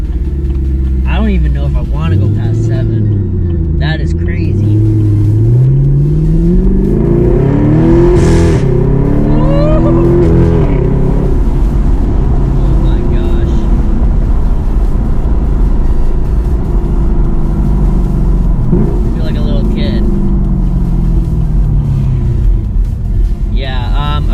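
A Chevrolet Camaro SS fitted with a Vitesse Motorsports throttle controller accelerates hard, its engine note rising and falling through gear changes as a loud, continuous roar under a voice.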